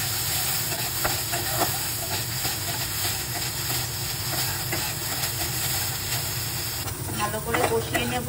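Butter, ginger-garlic paste and spices fry in a pan, giving a steady, close sizzling hiss throughout, with a brief stir and clatter near the end.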